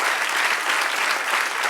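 Sustained applause from a church congregation fills the space, many hands clapping evenly and loudly throughout.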